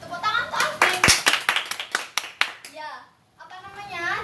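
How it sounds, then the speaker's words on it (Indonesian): A classroom of students claps for a classmate who answered correctly, a burst of loud, uneven hand claps lasting a few seconds before voices and chatter take over. "Tepuk tangan tuh Alvin"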